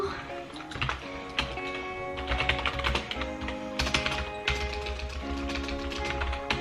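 Rapid, dense keyboard typing rattles on continuously, fairly loud and close, with a busy family household's voices and background noise mixed underneath.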